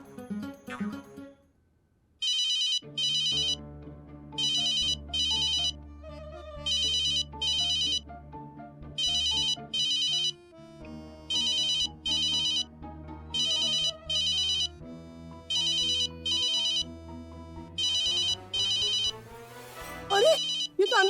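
A mobile phone ringtone in a home plays a melodic pattern that repeats in evenly spaced bursts for about twenty seconds, loud and close.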